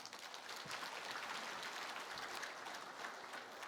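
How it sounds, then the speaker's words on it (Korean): A church congregation applauds during a Sunday sermon, many hands clapping in a steady, even wash that sounds quiet and distant. "여러분 사도 바울에게 박수 한번 쳐드리세요"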